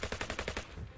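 A rapid automatic burst from a firearm in Fallout New Vegas, about six or seven evenly spaced shots over half a second, loud and close, then a brief tail.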